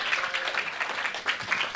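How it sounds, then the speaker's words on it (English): An audience gives a performer another round of applause, steady mid-level clapping that holds evenly throughout. "Please give him another round of applause."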